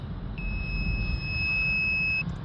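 A multimeter set to continuity gives one steady, clear electronic beep lasting nearly two seconds while probing the earth pin on a Ford Transit Courier diesel particulate filter sensor connector, over a low background rumble.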